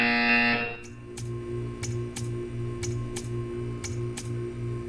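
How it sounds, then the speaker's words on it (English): A buzzer sounding in a gallery setting, a rapid run of short, evenly spaced pulses repeating steadily after a brief louder tone at the start, clear and fairly close with no talk. "You will hear a buzzer."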